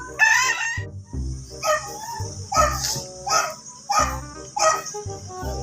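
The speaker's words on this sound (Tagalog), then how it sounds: "So maraming manok yung ugangan ko dito guys. Manok na pansabong." Fighting roosters crowing repeatedly in a backyard, loud and close, with several overlapping crows in a steady rhythm and a dog barking among them.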